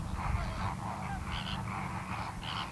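Flock of flamingos calling at a wetland in Iran, a continuous chorus of nasal, goose-like honks and gabbling overlapping at a moderate distance, with louder bursts of calls rising at intervals.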